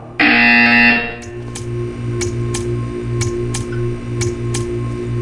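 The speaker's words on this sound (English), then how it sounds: "You will hear a buzzer." A loud, harsh electronic buzzer from the video game Portal 2 blares for about a second, then gives way to a quieter steady hum with a string of sharp ticks at regular intervals.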